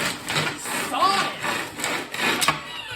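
A manual chainsaw, a chain blade pulled back and forth by hand, cuts through dry wood in rhythmic rasping strokes, close and moderately loud, with a person talking over it.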